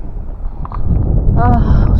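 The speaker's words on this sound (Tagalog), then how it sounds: "Ang lakas ng hangin" Heavy low-pitched wind buffeting rumbles against the microphone, with a voice speaking briefly over it.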